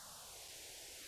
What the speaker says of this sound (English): Just some white noise and a double notch